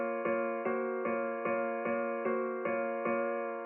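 Synth patch with chorus and saturation plays a repeating chord stabbed about every 0.4 seconds, rich harmonics stacked and bright, loud and alone with no talk, in a hip-hop beat production.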